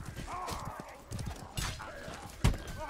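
Horse sounds from a medieval melee combat game: hoof clip-clops and a brief whinny amid battle noise, with a sharp impact near the end.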